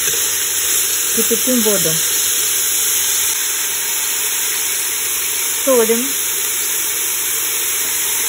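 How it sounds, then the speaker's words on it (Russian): Onion and carrot for borscht fry steadily in a pan, a constant close sizzle running throughout, with brief talk over it. "То есть как бы поджариваем, как на сковороде."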